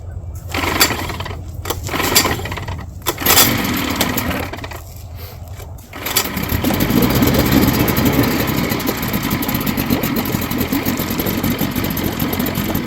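A Mercury 75 outboard motor is cranked with a few short bursts and rattles, then catches and settles into a steady, loud idle that runs unbroken for the rest of the stretch, with no talking.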